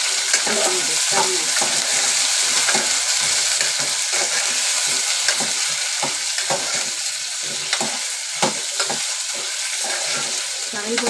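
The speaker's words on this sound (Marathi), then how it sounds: "हे बटाटे बटाटे परतून घ्यायचे" Diced potatoes for a green-masala potato curry sauté in a hot pan, a loud continuous sizzle and fry with scattered scraping stirs throughout, no voices.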